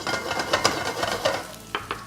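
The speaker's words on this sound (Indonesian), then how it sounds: "aku masukin dulu bawang bombay-nya." Onion hits a hot pan and sizzles while being stirred, giving bursts of frying crackle and irregular scraping taps, close and fairly loud.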